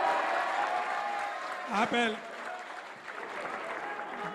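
A crowd at the U23 World Squash Championship applauds steadily after a referee's decision, while a commentator talks over the clapping.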